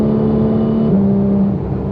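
A Porsche 991.2 GT3 engine drones steadily as the car accelerates, a loud continuous mechanical hum that rises slightly in pitch partway through, heard from inside the car with no talking.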